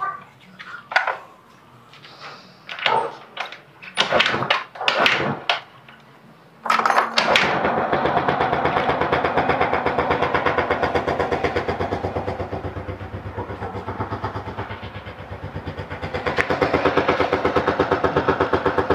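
A Yamaha Mio Sporty scooter with a diaphragm-type carburetor is kicked or cranked with several short bursts, then starts and settles into a steady, fairly loud idle close by, the engine running continuously to the end.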